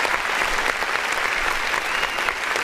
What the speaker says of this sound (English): Let's clap for his stupidity.